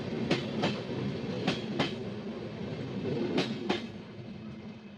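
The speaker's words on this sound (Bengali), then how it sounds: "এদিক থেকে তো তেজস রাজধানী বেরিয়ে গেল।" The New Delhi–Bhubaneswar Tejas Rajdhani express rolls steadily past, a continuous rail rumble with sharp wheel clacks arriving in pairs as the carriages cross the rail joints, moderately near and with no voices.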